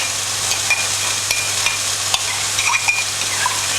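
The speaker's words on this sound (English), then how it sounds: "So the sauce mix, I'm just going to mix all the ingredients together that I've already put in there." Sauce base ingredients being stirred together in a bowl while cooking sweet chilli beef with egg fried rice, soft scraping and swishing strokes with faint clinks at an even, close pace, and no talking.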